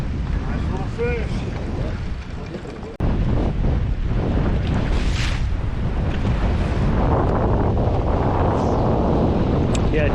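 Steady wind roars across the microphone on an open boat during a bass fishing trip, a constant loud rush with a brief dropout near the start and faint water movement beneath.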